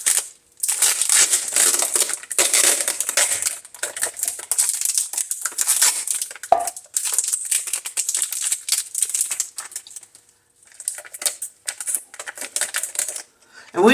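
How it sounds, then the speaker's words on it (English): Tape being peeled off a resin mold, continuous close crackling and crinkling with short pauses and a few louder rips. "Let's take the tape off."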